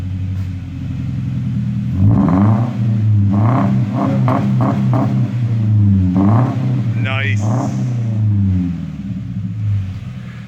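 A 2015 Subaru Impreza with a straight-piped axle-back exhaust and the stock resonator revs repeatedly: loud, close, rising and falling engine bursts over a steady idle rumble, with people speaking briefly.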